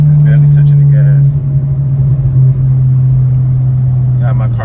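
An Audi car engine hums at a steady low pitch with a slight rise and dip as the driver barely touches the gas, loud and close, with faint voices and clicks briefly over it.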